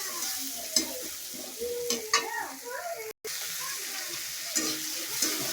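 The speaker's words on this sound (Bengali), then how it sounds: "তেলটা তো অনেক গরম। ভাজা ভাজা করে নিতেছি" Pointed gourd (potol) pieces frying in very hot oil in a village kitchen, a steady broadband sizzle with occasional stirring clinks and scrapes, close and continuous.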